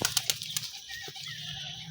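A quick burst of wing flapping from a Giribaz pigeon, several sharp flutters close by, then quieter rustling.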